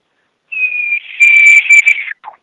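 A hand-blown call imitates a level-one cow elk: a loud, clear whistling note that starts, holds its high pitch in a few pulses, then falls off sharply and ends with a brief low squeak.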